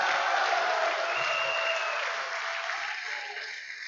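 A crowd at a political rally claps loudly and steadily, the applause slowly fading over a few seconds.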